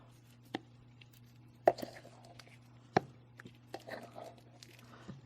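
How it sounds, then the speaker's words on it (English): A spatula scrapes leftover resin out of a mixing cup with a few sharp taps and short scraping strokes, quiet and close against a faint steady background hum. "when you scrape like this, there's a lot of unmixed resin that goes along with it"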